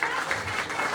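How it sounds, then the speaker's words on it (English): Audience clapping at a media address by Liberian President-elect Joseph Boakai: a brief, continuous burst of many hands, fairly loud and even, with slight swells in intensity and no speech over it. "Clap better than that."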